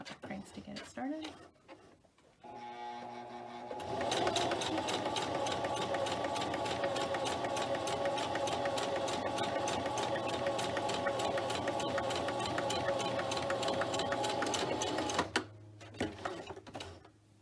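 A sewing machine starts up after a few hand cranks and runs in a steady, fast stitching drone while stitching a glitter HTV tassel, then stops abruptly, followed by faint handling noises.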